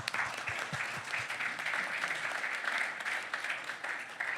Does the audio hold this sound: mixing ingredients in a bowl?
no